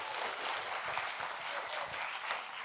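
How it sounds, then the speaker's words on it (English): A school audience at a middle school assembly applauds for a few seconds, a steady dense patter of clapping hands filling the room at fairly even loudness. "can we go ahead and have a round of applause for them?"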